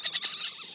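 Baby raccoon screaming, giving a short run of high, thin squeals in quick bursts that fade out, close and fairly loud, alone without talk.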